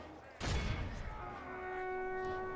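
A missile unit's volley striking charging knights in Medieval II: Total War, a sudden loud burst of impacts that rings out and fades into a sustained battle din with tonal layers.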